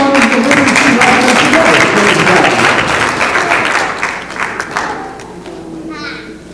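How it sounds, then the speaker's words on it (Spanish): Wedding congregation applauds during a church ceremony, dense loud clapping that gradually thins and fades toward the end. "¿Cuánto le damos un aplauso al Señor?"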